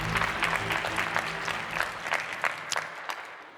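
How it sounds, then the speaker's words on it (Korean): Audience applause at a research presentation on stage, a dense burst of clapping from a large crowd that stays steady and then thins out toward the end. "김주호 교수에게 다시 한번 큰 박수 부탁드립니다."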